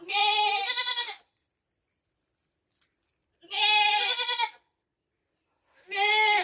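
Goats on a rural Philippine farm bleat loudly in three separate bursts, each about a second long, with quiet gaps between them and a faint steady tone running underneath.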